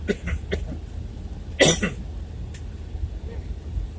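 A single harsh cough from a sick person with a nasty cough rings out close by amid a low background hum, with a few short throaty sounds around it.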